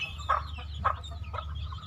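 Chickens cluck in short bursts, a few separate calls over a low steady background hum.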